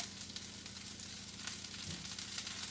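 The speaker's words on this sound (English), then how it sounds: "So I'm gonna put my broccoli in, let that sit for a second. I'm also gonna put some more oil on top of it." Broccoli sizzles steadily in hot oil in a pan, a dense, even frying hiss that fills the whole stretch without talk.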